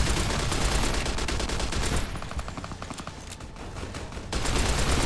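Shotgun and other gunfire in Fallout: New Vegas during a battle against Legion troops, with dense rapid shots and booms that ease off in the middle before the firing picks up loudly again.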